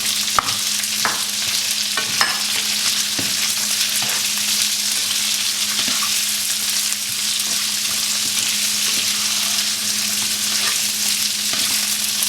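Onions sizzling in a hot pan for Indo-Chinese chili chicken, a loud continuous frying hiss with scattered scrapes of stirring, no voices.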